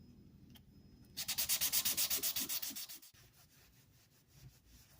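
Rapid back-and-forth strokes sanding a rusty Millers Falls hacksaw with fine 320-grit sandpaper, a steady rhythmic rasp close by, followed by quieter, lighter rubbing.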